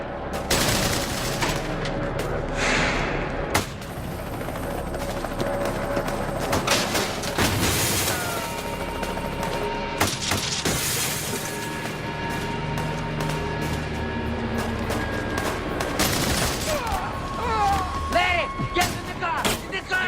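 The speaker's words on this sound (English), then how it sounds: "They're still shooting at us." Gunfire crackles through a western movie shootout, with rapid overlapping shots and bursts from semi-automatic weapons, some close and sharp, others echoing, beneath tense music and occasional voices.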